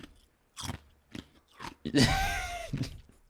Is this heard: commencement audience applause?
no